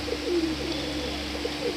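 Pure-bred Andhra old-line pigeons coo in short soft low phrases, repeated a few times over faint steady background noise.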